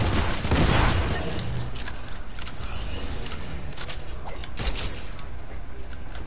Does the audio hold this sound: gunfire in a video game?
yes